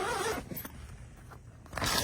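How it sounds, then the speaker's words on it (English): Zipper on the door of a wildlife photography blind being pulled open, a rasping, fairly loud zip running for about two seconds close by, with no voices. "The zipper is quite noisy"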